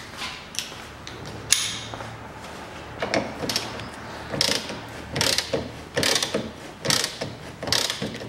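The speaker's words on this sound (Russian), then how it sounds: "Откручиваю сзади болт. И задний болт ослабляю." A ratchet wrench loosens a rear bolt on the front trailing suspension arm of a 2009 Chevrolet Aveo, giving bursts of quick, close metallic clicking in repeated strokes with short pauses between them.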